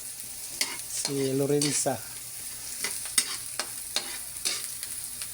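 Food frying in a pan, a quiet steady sizzle with light crackles and occasional pops, and a brief spoken voice partway through.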